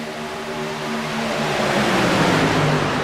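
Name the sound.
race cars roaring around Talladega Superspeedway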